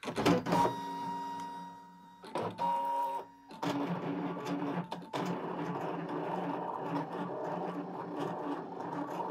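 A Brother ScanNCut CM cutting machine runs a cut, giving a steady close motor whir with tonal hum and brief mechanical clunks and stops near the start, then continuous moderately loud operation without speech.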